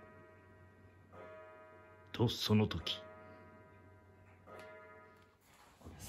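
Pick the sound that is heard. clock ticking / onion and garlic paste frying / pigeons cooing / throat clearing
clock ticking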